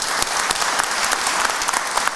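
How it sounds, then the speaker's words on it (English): A conference audience at an event on overcoming obstacles to equity claps for students, with a short burst of brisk, close applause holding steady at a moderate level. "let's give a round of applause for them."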